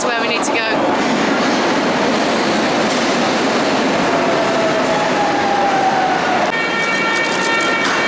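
A Lisbon metro train rumbles loudly and steadily on its rails, with squealing metallic tones and a high chime near the end, close and continuous throughout.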